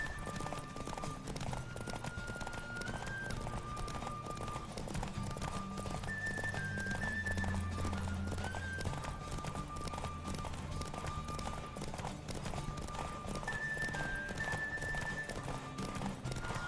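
Horse galloping in a race in the video game The Witcher 3: steady rapid hoofbeats throughout over a low rumble and faint tonal game music, with no talk.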